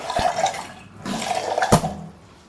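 A little water is poured into dal paratha dough in a home kitchen, a splashy watery rush in two short bursts, close and fairly loud, with no talking.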